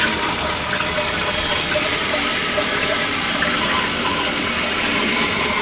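Water rushes steadily under pressure through the plumbing of a toilet in a flooded, unused bathroom, a loud, constant broadband hiss and gush close by with no voices.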